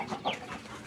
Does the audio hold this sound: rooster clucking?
yes